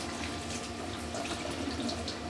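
Water runs steadily from a tap in a kitchen sink while dishes are rinsed, a continuous close hiss and splash without pause or talk.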